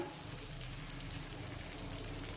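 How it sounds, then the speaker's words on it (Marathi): Oil poured over a bajra flour thalipeeth in a hot pan gives off a steady, soft crackling sizzle with no voices. "आता या थालीपीठावर तेल सोडून घेऊया तेल तूप काही लावू शकता"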